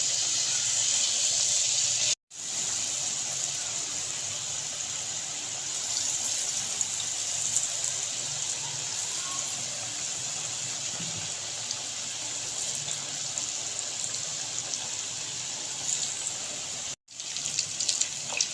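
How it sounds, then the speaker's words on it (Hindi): Potato French fries deep-frying in hot oil make a continuous, close, hissing sizzle that holds steady for the whole stretch, broken by two very brief cuts, with no speech. "ये देखिए ये बहुत ज़बरदस्त से फ्राई हो रहे हैं, इनका कलर चेंज होना शुरू हो गया है।"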